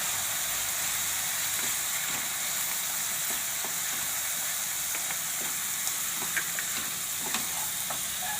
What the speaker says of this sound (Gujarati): આપણે ઉપરથી વઘાર કરવાનો છે, એમાં નાખવાની